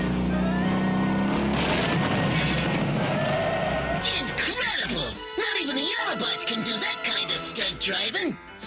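Cartoon Transformers cars do stunt driving, with engines roaring and revving loudly, tires screeching and sweeping passes under a busy soundtrack, and a voice talking over it.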